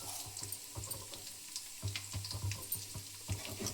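Urad dal and cumin seeds fry in a pan with a steady close sizzle, dotted with small crackles and pops and a faint low hum underneath.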